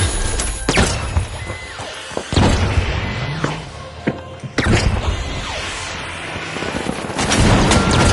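Rocket launcher blasts in the video game The Finals, heavy booming explosions landing several times amid a loud, busy firefight with mechanical noise, no voices.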